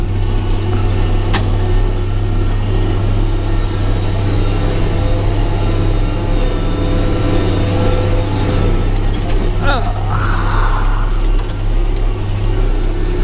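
A 150 horsepower tractor pulls a disc through harvest-rutted field ground at night, its heavy engine droning steadily and loudly throughout, with mechanical rattles and a brief metallic clunk near the end.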